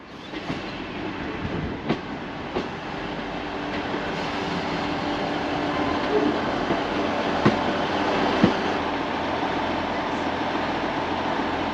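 A train on the Far North Line rumbles and clatters steadily at moderate distance, with occasional metallic clicks and clanks as it rolls into a station, gradually growing louder.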